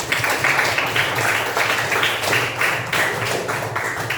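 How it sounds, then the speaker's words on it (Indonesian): A classroom of students at a vocational high school claps for a classmate's answer, a brisk continuous round of applause lasting several seconds, with a bit of faint murmuring underneath. "Mungkin bisa diberi tepuk tangan dulu."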